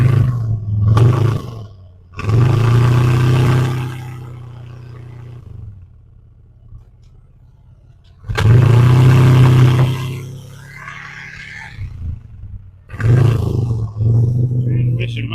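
A 1979 Jeep CJ7 engine rumbles loudly nearby, revving in surges with quieter idle stretches between, while a person talks over it.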